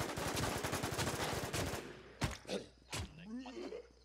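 Rapid bursts of automatic gunfire in the video game Infestation Survivor Stories rattle for under two seconds, followed by a few isolated shots, with voices chattering faintly between them.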